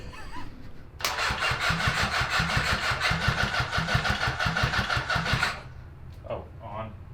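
A 750cc engine swapped into a Suzuki four-wheeler cranks and catches, then runs for several seconds with a loud, steady, rapid thumping idle before cutting out, followed by brief faint noises.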